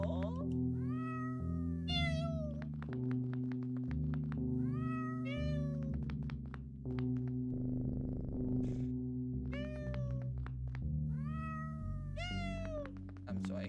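Cartoonish cat meows repeat in short bursts over a looping musical background in the video game OneShot, several rising-falling cries spaced a few seconds apart with a brief soft noise in the middle.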